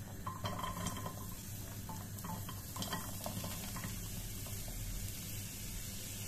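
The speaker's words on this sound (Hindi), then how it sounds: "और अब हम एक पैन गरम करेंगे, उसमें सभी गाजरें डाल देंगे।" Thinly sliced carrots frying in a hot pan, a steady low sizzle with soft stirring scrapes and occasional light clinks of a utensil throughout, moderately close and continuous with no talking.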